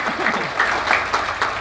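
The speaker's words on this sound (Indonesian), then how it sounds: "Saya minta tepuk tangan dulu dong buat panjenengan sedaya." Applause from an audience at an Islamic religious gathering led by a female preacher, a steady dense clatter of clapping running through the short stretch with some voices mixed in.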